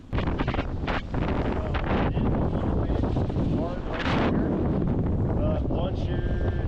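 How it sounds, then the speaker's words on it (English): Strong wind roars and buffets the microphone in heavy gusts on a mountain ski slope in New Zealand, with muffled voices faintly audible underneath. "with the wind picking up"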